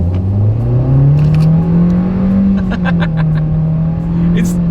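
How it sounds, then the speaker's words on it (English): A 2024 Nissan Kicks small SUV accelerates at full throttle, its engine droning and rising steadily in pitch as it gains speed, loud and close throughout. "let's see how quickly we can get our new 2024 Nissan Kicks here up to speed"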